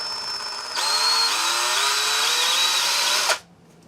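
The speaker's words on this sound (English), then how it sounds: "I'm going to go drill this out one more" A power drill bores out a bolt hole in a metal motor mount brace for a WR250E, a loud steady whine that steps up in pitch and runs for about three seconds, then cuts off sharply into quiet.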